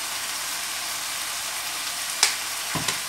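A hot pan sizzles steadily as vinegar and soy sauce go in, a loud, even bright frying hiss with a couple of brief clinks and stirring knocks near the end, no talking.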